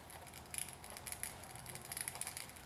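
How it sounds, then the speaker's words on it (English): Small metallic clicks and ratcheting while 8mm bolts are threaded into the supercharger snout of a Pontiac Fiero 3800 engine, a steady, close run of light irregular ticks. "Now we're going to thread the 8mm bolts into the"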